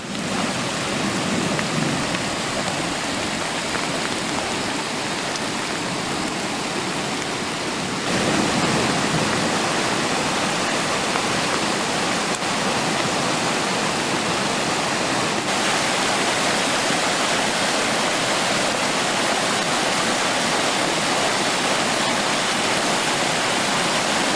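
A steady, loud roar of creek floodwater pouring through a 20-inch culvert, continuous and unbroken throughout with no voices.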